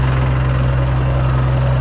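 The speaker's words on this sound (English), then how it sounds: "Just got ran over by a tractor." A farm tractor's engine idles close by with a loud, steady low rumble and constant vibration, with no talk over it.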